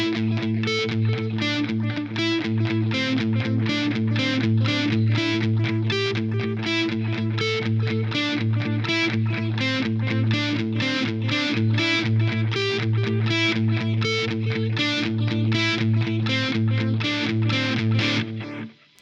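Electric guitar riff run through a Line 6 Helix transistor tape delay set to dotted eighth notes, played as a steady, driving pattern of repeated distorted notes with echoes interlocking, loud and continuous for the whole passage with no talking.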